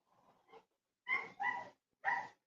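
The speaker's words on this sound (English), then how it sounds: "that's the dog barking, wanting to come back in" A dog barks to be let back indoors: a couple of soft whimpering yips, then three loud, close barks in quick succession.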